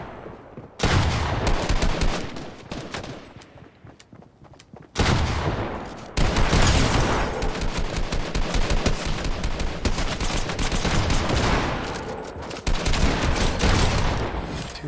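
Fortnite gunfire: dense bursts of rapid shots crackle close and loud, with a short lull before the shooting resumes in sustained volleys.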